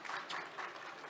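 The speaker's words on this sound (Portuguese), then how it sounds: "Uma salva de palmas para a Cecília, gente." Audience clapping at a coffee sustainability talk, a steady wash of many hands lasting about a second, fairly faint and with no voices over it.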